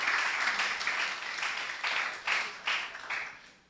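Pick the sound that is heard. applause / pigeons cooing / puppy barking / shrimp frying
applause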